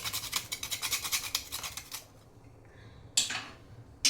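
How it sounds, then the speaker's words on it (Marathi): Whole nutmeg grated for jaggery and khapli wheat kheer, a run of quick, rhythmic rasping strokes close by for about two seconds, then a quiet pause and two short bursts of scraping. "यात मेन म्हणजे जायफळ टाकायचं किसून"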